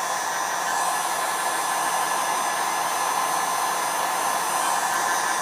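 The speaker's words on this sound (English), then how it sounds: "You can use a hairdryer, works fine." A hair dryer blows hot air over epoxy resin to pop surface bubbles, a steady, loud, even whooshing hum running throughout without pause or voices.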